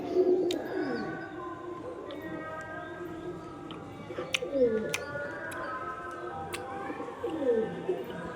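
Malobahi pigeons in a loft with adults feeding young, soft repeated cooing rising and falling, with occasional chirps and clicks nearby and faint background noise.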